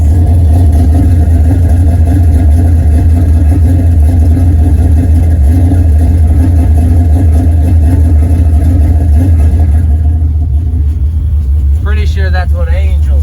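A 1979 Chevrolet Camaro V8 on its first start, idling loud and rumbling close by with a steady heavy low throb, a brief rev lifting near the end.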